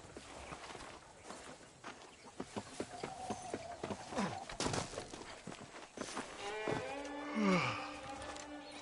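Horse hooves clip-clop at a walk while riding in the Western video game Red Dead Redemption, irregular soft thuds mixed with other faint game sounds and brief vocal noises.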